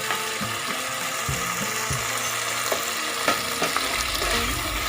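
Hot garlic pepper chicken fries in oil in a pan, a steady close sizzle with scattered clicks and scraping stirs throughout and no talking.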